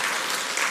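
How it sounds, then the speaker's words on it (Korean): Sustained, dense applause from a lecture audience at a church talk by a film director, steady and fairly loud with no break, filling the whole moment. "박수 쳐주세요"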